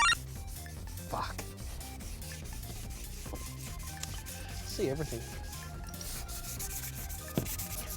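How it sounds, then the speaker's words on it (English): Hand sanding of stainless metal window trim with steady back-and-forth rubbing strokes, close by, while a voice briefly speaks and a few knocks and scrapes break through. "So we're nearly at the end of sanding down all these bits and pieces,"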